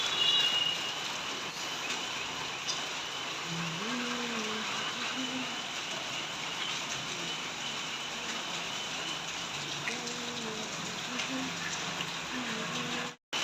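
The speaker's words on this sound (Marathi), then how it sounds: "आमच्या इथला पाऊस बघा किती धोधो धोधो पाऊस चालू आहे" Heavy, continuous rain pours down outside an open gallery, a steady dense hiss of drops on surfaces that never lets up, with a voice speaking faintly beneath it.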